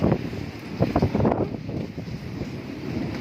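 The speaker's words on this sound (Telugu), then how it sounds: "మంచిగా వర్షం పడాలి కానీ ఈ గాలి ఒకటి వచ్చింది" Gusty wind buffets the microphone in low rumbling bursts during a thunderstorm in Hyderabad, strongest early on, then settling into a steadier blustery roar.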